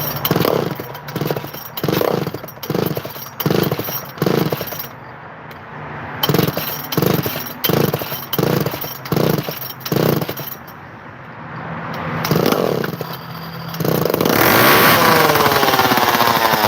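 Chainsaw engine running while the idle is tuned, a loud rapid pulsing rattle that stops and restarts in bursts, then settles into a steady roar near the end.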